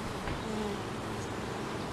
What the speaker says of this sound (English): We got bees on this next one.